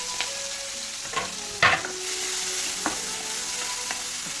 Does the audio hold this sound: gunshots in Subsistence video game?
no